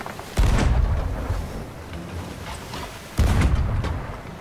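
Two heavy booming cannon blasts from a ship in the video game Sea of Thieves, about three seconds apart, each a loud broadband thump over a steady rumbling background.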